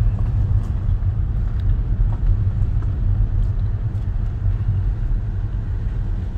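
A car drives up a gravel road to Saddle Ridge, and its tires give a continuous low rumble and crunch under a steady engine drone. The sound stays close and unbroken, with no talk.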